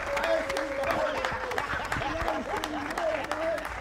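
An audience claps and cheers for the winners of a contest finale, continuous dense applause with a voice calling out over it.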